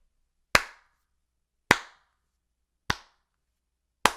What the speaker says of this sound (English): Can we just give this man a well-deserved slow clap?